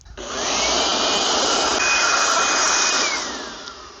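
An air blower drying the wheel of a Mitsubishi Lancer gives a loud, steady, close whoosh for about three seconds, rising quickly and then tapering off.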